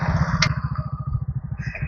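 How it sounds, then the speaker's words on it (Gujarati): A motorcycle engine idles close by with a rapid, throbbing putter, steady throughout with a brief clank partway through. "બાઇક તૈયાર કરી દીધું છે"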